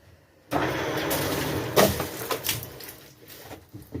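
A planing machine switches on with a sudden burst of broadband mechanical noise, then runs steadily with a rough, fluctuating whir and a few louder knocks and clatters.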